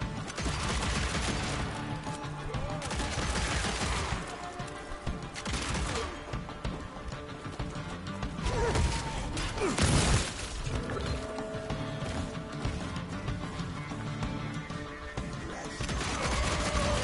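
Hip-fired gunfire from the video game Evil West rattles in dense, rapid bursts over a loud, continuous bed of game action, with heavier crashes and booms mixed in.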